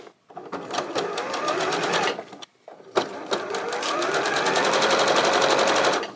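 Sewing machine stitching the side borders onto a quilt made from a fabric panel with a scant quarter-inch seam, running in fast steady bursts with a short pause, close and loud throughout.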